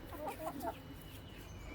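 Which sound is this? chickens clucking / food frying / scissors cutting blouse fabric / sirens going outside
chickens clucking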